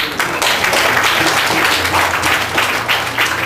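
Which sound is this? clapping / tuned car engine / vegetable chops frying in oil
clapping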